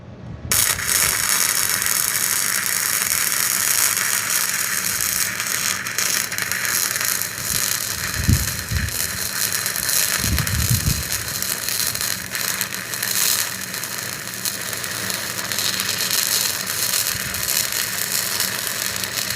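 Harbor Freight Titanium 125 welder running on a car subframe, a steady loud crackling buzz that holds for the whole stretch, with a couple of brief low thumps partway through and no talking.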